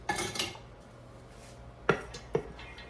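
Toasted maftoul couscous is stirred in a pot. A spoon clinks and scrapes against the pot in a few quick, fairly quiet strokes, with a lull between them.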